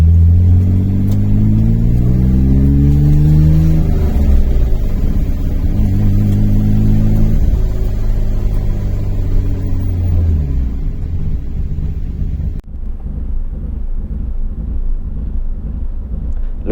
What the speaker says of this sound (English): just started driving now, and there's a load of smoke coming out the back of the car.